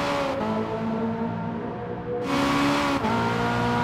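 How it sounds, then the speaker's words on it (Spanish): A race car engine in Gran Turismo Sport drones at a steady pitch, then jumps louder and brighter as the car accelerates, with a brief shift-like dip, heard without any talking. "¿Veis cómo suena el coche?"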